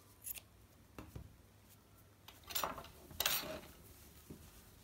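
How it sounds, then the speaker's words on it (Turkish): Scissors snip off excess cord while sewing a baby romper with shorts, a few quiet clicks followed by a louder cluster of cutting sounds, close and soft in a quiet room. "Fazlalığı da kesiyorum."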